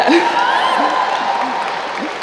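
Audience applause at a 2014 student commencement speech at Eugene Lang College, a steady broad wash of clapping heard alone, loud at the start and easing slightly toward the end.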